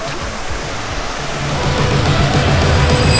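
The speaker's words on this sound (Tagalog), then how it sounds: "agos ng tubig." Loud, steady rushing of water from a stream near Big Aho Falls in San Vicente, a broad continuous roar that swells slightly louder, with no talk.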